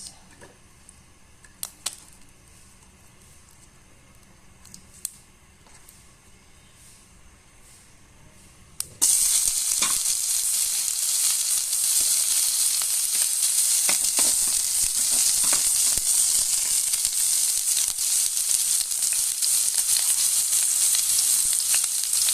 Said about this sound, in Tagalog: Ngayon, igisa na natin yung sibuyas.